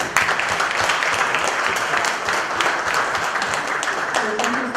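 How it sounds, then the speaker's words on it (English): Conference audience at a UNESCO session gives the speakers a sustained round of applause, thick and even clapping with occasional sharper claps standing out near the front. "Please join me to give a big applause to the speakers."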